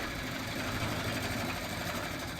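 A woodturning lathe hollows the centre of an ash bowl with a natural bark edge, held with the tailstock, giving a steady, close, continuous motor drone with rough broadband cutting noise throughout and no voices.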